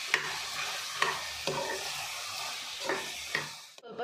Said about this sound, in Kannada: ಇದು ಚೆನ್ನಾಗೆಲ್ಲ ಮಿಕ್ಸ್ ಕೊಟ್ಕೊಳ್ಳೋಣ